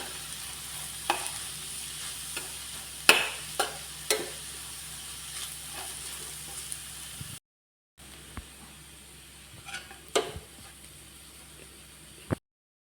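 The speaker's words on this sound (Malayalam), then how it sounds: "നമുക്ക് ഇതുമായിട്ട് നന്നായിട്ടൊന്ന് ഇളക്കി കൊടുക്കാം" Shredded cabbage and egg for a thoran fry in a pan under a steady soft sizzle. Spatula stirs and taps against the metal come at irregular moments, close and clear. The sound cuts out briefly midway, then the frying resumes, with no talking.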